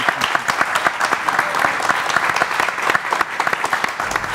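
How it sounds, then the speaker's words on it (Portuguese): A studio audience gives a round of applause to the interviewee, writer and philosopher Francisco Cock Fontanella, on a university TV programme. The clapping is loud and close, with distinct individual claps in a sustained, even rhythm throughout. "Uma salva de palmas."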